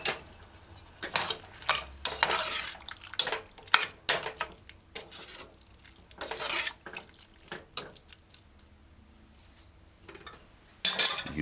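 Half a cup of water added by spoonfuls to a saucepan for a vegan mushroom tomato stew, with repeated clinks and scrapes of a spoon against the pan and faint sizzling between bursts, close up, no talking.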